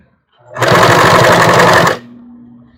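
A sewing machine stitches along the edge of a bra in one steady, loud burst of rapid needle clatter lasting over a second, then stops and leaves a low hum.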